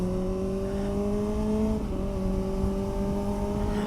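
A nearby vehicle engine revs and holds a steady, loud droning note, with a brief dip in pitch midway before settling again, continuous and without talk.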